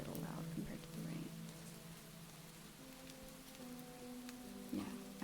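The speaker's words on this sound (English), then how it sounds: "And if you feel like just listening to the rain" Steady rain patters on a surface as a soft, continuous hiss, with quiet background music playing beneath it throughout.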